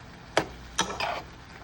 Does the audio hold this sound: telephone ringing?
no